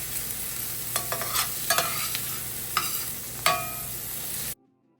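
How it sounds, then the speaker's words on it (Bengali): Onion, green chili and tomato frying in a pan give a steady, close sizzle, broken by a few sharp clinks and scrapes of stirring before the sound cuts off near the end. "পেঁয়াজটা একটু লাল লাল করে ভাজা হয়ে গেলে তাতে আমি এক এক করে কাঁচা লঙ্কা আর টমেটো দিয়ে দিয়েছি।"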